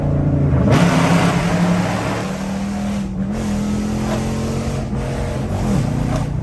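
An AWD Chrysler 300 Hemi heard from inside, accelerating hard through the gears with a rising engine roar, brief dips at each shift and a droning, steady pull between them.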